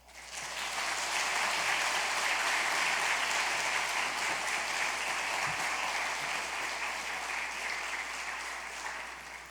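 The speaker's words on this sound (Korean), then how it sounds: "나오실 때에 박수로 이렇게 맞이하시면 좋겠습니다" A church congregation gives a guest speaker, a professor, a warm welcome with sustained applause that swells quickly and stays dense and even for several seconds before easing slightly.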